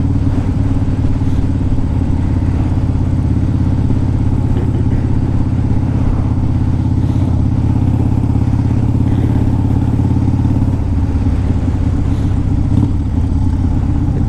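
The twin cam engine of a 2002 Harley-Davidson Dyna Wide Glide runs loud and close with a steady, deep, uneven rumble, shifting slightly in tone about two-thirds of the way through.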